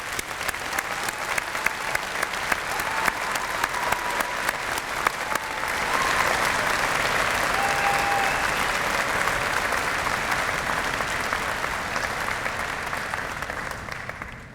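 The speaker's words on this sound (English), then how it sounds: "would you please join me in giving a big round of applause to our graduating classes?" Sustained audience applause at a university mathematics convocation, honoring the graduating classes; dense, steady clapping from a large crowd that swells slightly midway and holds for the whole stretch.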